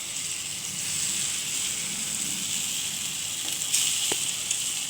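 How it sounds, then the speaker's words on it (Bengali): Pumpkin, potato and pointed gourd fritters frying in hot oil over lowered heat, a steady, close sizzle that continues evenly throughout with a small crackle burst near the end; no talking. "বড়া ভাজার সময় সবসময় জোর কমিয়ে করতে হয়"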